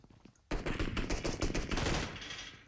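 Rapid bursts of automatic gunfire in the mobile battle royale game PUBG Mobile, loud and dense, starting abruptly after a short quiet lead-in and continuing as overlapping shots.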